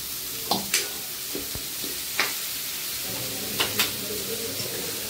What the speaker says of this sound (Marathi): भाजी चांगली परतून घ्यायची, याच्यात मसाल्यामध्ये मिक्स करून घ्यायची